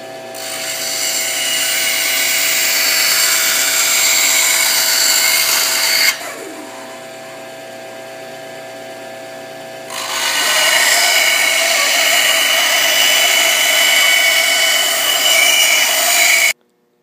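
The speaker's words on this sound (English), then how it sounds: "we're going to use our Craftsman bandsaw to go ahead and make the cuts on" A Craftsman bandsaw cuts a Kydex sheet with a loud, steady high whine, breaking into a quieter pause about a third of the way through before the cutting noise resumes and runs to an abrupt stop.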